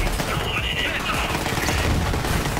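Rapid machine gun fire from Borderlands 3, a dense continuous burst of shots with booming impacts filling the whole stretch, loud and up front.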